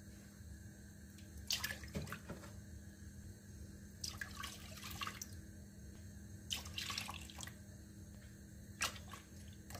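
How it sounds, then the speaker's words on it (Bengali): Milk poured into a pot for firni, four cups in short splashing bursts with pauses between, quiet and close in a home kitchen. "4 কাপ দুধ দিয়া দিলাম।"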